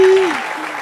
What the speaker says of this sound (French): Est-ce que vous pouvez applaudir pour vous-même?